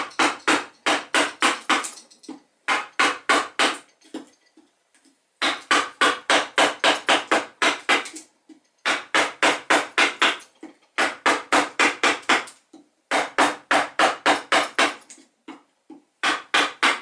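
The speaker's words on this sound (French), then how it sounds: "Avec une gouge large et peu creuse, donc on a abattu tous les angles" A wide, shallow gouge shapes the hull of a wooden toy boat modelled on the little boats of the Luxembourg garden pond. Rapid, crisp wooden taps come in steady bursts of about a dozen, separated by short pauses, close and fairly loud, with no talk.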